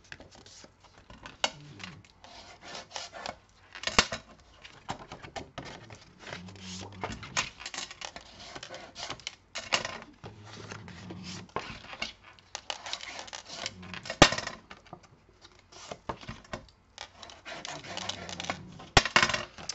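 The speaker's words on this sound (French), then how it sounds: "Donc, on va marquer les plis." Paper being scored along fold lines for a pop-up card, with soft repeated scraping and tapping strokes of a tool against paper on a table, faint and close, without speech.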